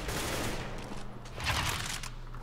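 A short burst of rapid video game gunfire, a dense volley of fairly quiet shots without a break, over a muffled background.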